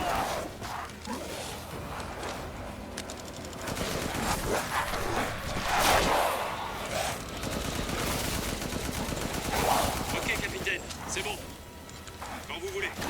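Gunfire in the video game Resident Evil Village, dense bursts of shots layered over game music and effects, continuous and fairly loud throughout.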